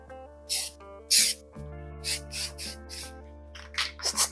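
Rust-Oleum spray paint is applied to rebuilt suspension parts during a disc brake upgrade on a 1956 Chevy Nomad. Several short, close hissing bursts come in quick succession over steady background music.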